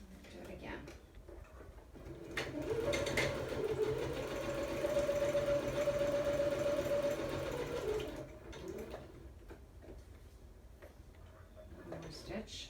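A sewing machine runs steadily for about six seconds stitching through a journal page, a close mechanical whirr, with brief quieter clicks and handling noises before and after.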